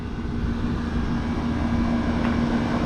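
An air conditioning unit at an old weigh station runs steadily, a constant droning hum with a fixed tonal whine, fairly close and unbroken throughout, with no voices.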